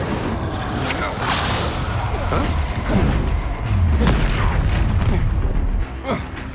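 A Confringo spell blast in the Hogwarts Legacy video game, a loud booming burst amid continuous combat noise and game effects, with a voice casting spells nearby.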